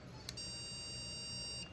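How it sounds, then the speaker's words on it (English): A dog e-collar's tone button sounds a steady electronic beep held for well over a second after a brief click, clear and close against a quiet room background. "Now when we press the tone, the T, that beeps on the collar."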